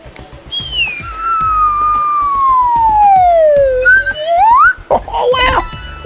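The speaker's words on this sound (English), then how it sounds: "This is a slide whistle." A plastic slide whistle plays a long downward glide, then a quick upward sweep, followed by a short burst of warbling notes. Tapping and a voice sit underneath it.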